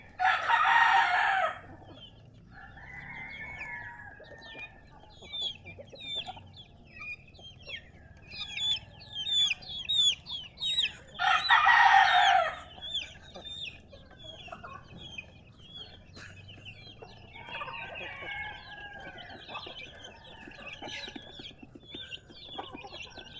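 Backyard chickens cluck and a rooster crows twice, each crow loud and drawn out, with scattered clucks and chatter in between at a farm coop in the morning.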